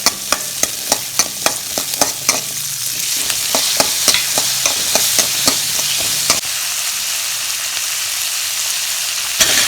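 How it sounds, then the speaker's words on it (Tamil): Onions and tomatoes sautéing in a pan for ash gourd sambar, a steady loud sizzle broken by a regular series of sharp spatula scrapes and taps against the pan, with no talking. "அதனால் வெங்காயத்தை வதக்கிட்டு அதோட தக்காளியும் போட்டு வதக்குறோம்."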